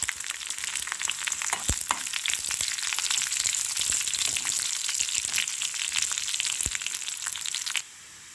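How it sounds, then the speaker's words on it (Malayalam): Curry leaves and chilies hit hot oil with browned onions for a tempering to finish a lentil parippu curry. A loud, dense, steady sizzle crackles up close throughout with a couple of sharp pops, then drops away abruptly near the end. "ഇനി നമുക്ക് കറിവേപ്പിലയും മുളകും കൂടി ഇട്ട് കൊടുക്കാം"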